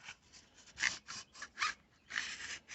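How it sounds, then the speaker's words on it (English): Metal bolt carrier of an Iver Johnson HP18 shotgun slid back onto the gun, giving a few soft scraping, rasping slides in short bursts, close and fairly quiet. "We'll set our bolt carrier back onto our gun."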